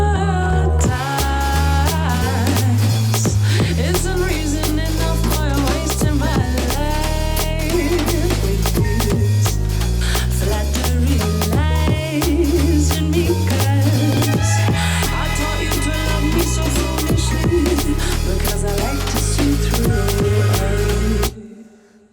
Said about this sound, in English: Halfway into the track, we sort of break down into a swung jazz section.